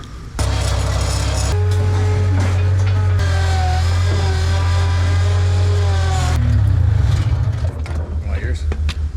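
A skid steer's engine drones loudly and steadily nearby, its pitch shifting slightly as it works during concrete driveway prep, with a voice talking over the rumble.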